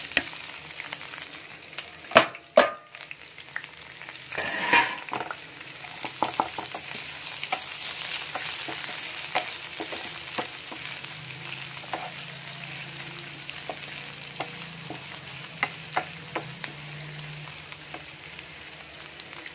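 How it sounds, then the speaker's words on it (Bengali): Onions sizzling in a pan, likely mustard oil, alongside green chilli and garlic paste while cooking a fish curry, with a steady close crackle, clacks of stirring near the start and faint scraping, without speech. "কাঁচা লঙ্কা রসুন বাটা পেঁয়াজ ভাজা হয়ে গেছে"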